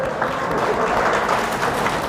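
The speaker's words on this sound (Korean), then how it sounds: "박수" An audience at an English-conversation class event claps together in a brief, dense burst of applause that stays loud and even throughout.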